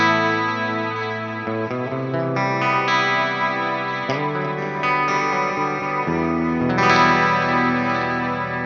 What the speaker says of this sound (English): turn on the long delay, this plex delay here, which doesn't even feature in any of the 8 scenes, and this reverb